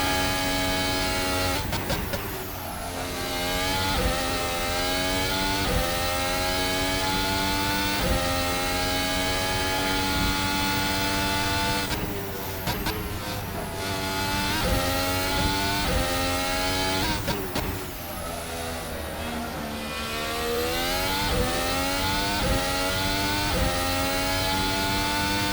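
Formula 1 car engine at Imola in a racing video game, a steady high-pitched whine that rises and falls through gear changes, sustained and loud with no talking.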